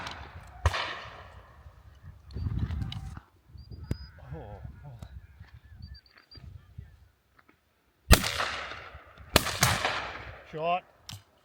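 Sharp shotgun reports ring out at a driven shoot during a blizzard, several loud, close bangs spread over the span, with wind noise and people talking in between.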